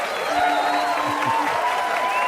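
Audience applause at a drone society live stream, a steady wash of clapping from a gathered crowd lasting throughout, with a voice speaking over it and a faint electronic tone in the background.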